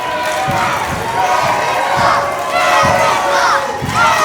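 A wrestling crowd at a Mayhem Pro show cheers and shouts loudly and steadily throughout, with rhythmic thumps and slams from the ring punctuating the roar.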